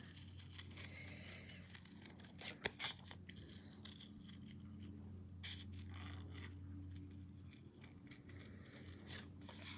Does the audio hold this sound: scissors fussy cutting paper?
yes